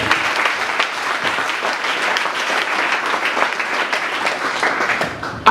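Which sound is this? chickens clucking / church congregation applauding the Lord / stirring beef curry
church congregation applauding the Lord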